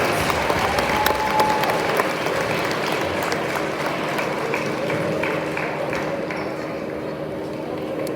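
Crowd applause at a high school senior night during a Knott Central versus PCC game, a steady wash of clapping in a gym that holds for several seconds and slowly thins, with faint talk and a brief whistle.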